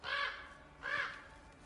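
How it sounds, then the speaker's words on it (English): Two short cawing bird calls from the video game God of War Ragnarok, each about a third of a second and spaced under a second apart, fairly faint against a quiet background. "I heard that bird."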